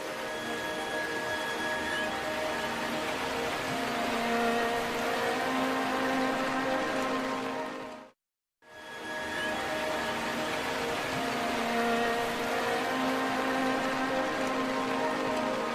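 Steady heavy rain pours over Borneo forest, a dense continuous hiss that breaks off in a brief near-silent gap midway before resuming at full strength.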